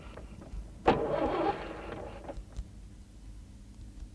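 Car engine cranking without catching: a single burst of starter grinding lasting about half a second, moderately close, followed by faint mechanical clicks and quiet background with no talking.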